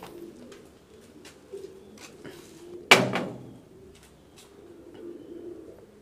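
An English Carrier, a British exhibition homer pigeon, coos softly in low repeated murmurs close by. A single sharp knock or clatter briefly cuts through partway along.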